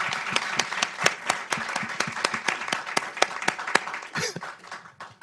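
Audience applause at a screening event: a roomful of people clapping in a sustained, even patter of distinct claps at moderate loudness, with faint voices underneath toward the end.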